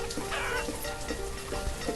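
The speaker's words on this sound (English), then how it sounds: "I got a ton of chickens" Chickens cluck in the village-building video game Banished, soft repeated clucks recurring every half second or so over a constant ambient bed of game sound, moderately quiet, with no talking.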